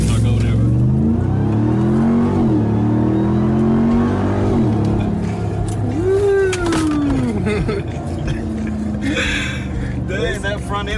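An off-road Baja-style truck accelerates hard, its engine rising and falling through gears in a loud, close roar heard from inside the vehicle, with voices talking over it.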